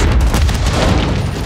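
A Semtex grenade goes off in the video game Call of Duty Modern Warfare 3, a loud, dense blast with a continuous heavy rumble filling the short moment, no voices.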